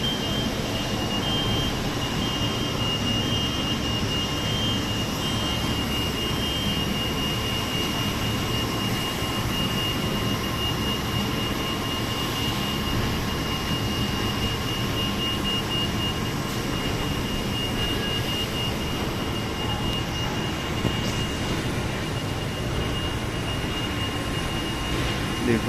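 Airliner jet engine turbine running at an airport jet bridge at Guarulhos, a constant loud roar with a steady high whine, unbroken and close throughout.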